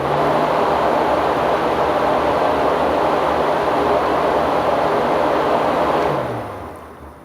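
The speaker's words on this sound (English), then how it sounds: "the AC fan was blowing strong and there is no odd noises" A car AC condenser fan motor powered directly from 12 volts, a loud steady whooshing drone of blowing air that runs without change and then spins down and fades near the end.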